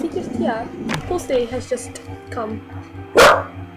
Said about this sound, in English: Sorry about my dog's making noise